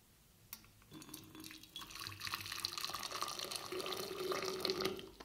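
Boiling water pours steadily from a teapot into a container, the splashing and gurgling growing fuller and louder as it fills.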